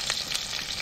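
Onions sizzle and fry in hot oil in a pan over village-style cooking, a steady close crackling hiss with faint stirring.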